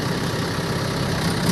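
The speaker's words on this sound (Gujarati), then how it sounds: "આપણો પિન્ટુભાઈ રિવર્સ મારે છે ટ્રેક્ટરને ને ચાલુ કરી દીધું પિન્ટુભાઈ જેસીબી।" A JCB excavator's diesel engine runs at a steady, loud idle, a continuous low rumble with no speech over it.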